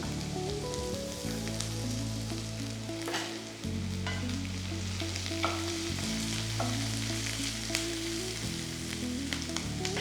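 Garlic, ginger, sliced green chillies and curry leaves with salt sizzle steadily in a pan for Kerala chicken mappas, a close, continuous frying hiss with occasional stirring scrapes and a low tonal hum beneath, no voices.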